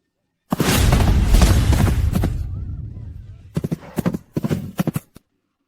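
A spooked horse gallops and stampedes near a stable, with a loud dense burst of pounding hooves for about two seconds, then a pause and a string of sharp separate thuds and clatters.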